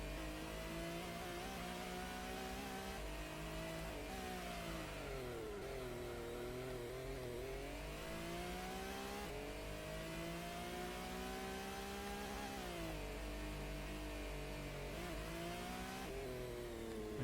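A hard-tuned car's engine revving in Gran Turismo, a continuous loud drone rising and falling in pitch through repeated gear shifts over a long stretch, with no speech.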